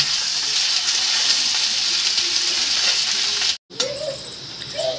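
Onions fry loudly in a village-style tadka with cumin, bay leaf and dried chilli, a dense continuous sizzle close up, briefly cut off, then resuming with stirring scrapes.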